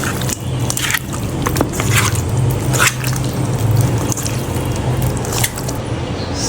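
Wet squishing and soft slapping as red chili powder, salt and spices are worked into food by hand, a steady close-up mushing with occasional sharper squelches.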